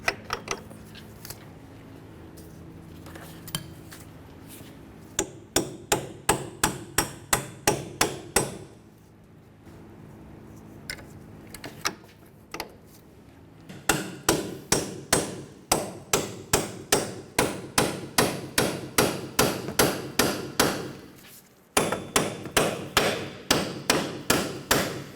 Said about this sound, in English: I went ahead and I drove the bolts all the way in, up against the strut, into the knuckle